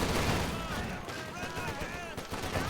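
Dense, continuous battlefield gunfire in Company of Heroes 2 as Grenadiers come under fire from several sides, a loud, unbroken wash of shooting with overlapping bursts and no clear gaps.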